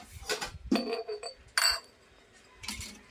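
Glass dishes clink against one another as they are picked up while a kitchen is being set up, with several short, bright, separate bursts of clinking.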